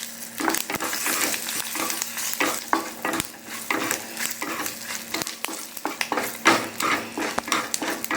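Mustard seeds crackle and splutter in hot ghee while the tempering for an Udupi-style Mysore rasam comes together, with dense popping bursts and a steady sizzle, up close, plus an occasional clink of a metal spoon and no talking.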